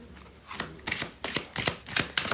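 Playing cards are shuffled during a live Halloween tarot reading, a string of quick riffling bursts and soft slaps, fairly close and moderately loud, in an otherwise quiet room.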